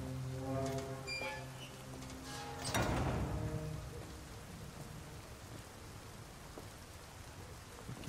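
Steady rain falls in the video game Detroit: Become Human, a continuous broadband hiss with a brief louder wash about a third of the way in, heard over low tonal game music and rumble.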